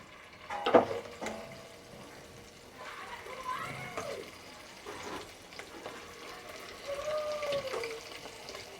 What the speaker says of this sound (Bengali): এবার আমি চিলি চিকেনের মাংসটা ভেজে নেব একটা একটা করে দিয়ে।